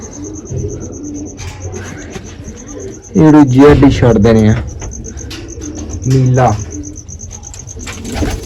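Pigeons at a village coop coo close by with a few wing flaps, while someone talks loudly over them in two bursts.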